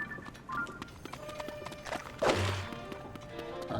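Horses neigh and snort at a stable in The Legend of Zelda: Tears of the Kingdom amid scattered hoof clatter and thuds, with ambient game noise and a brief sharp burst in the middle.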